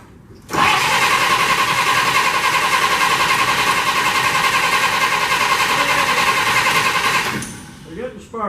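A barn-stored 1948 Pontiac Torpedo sedan's engine cranks over on the starter in a loud, steady, rhythmic churn for about seven seconds without catching. Voices can be heard around the car.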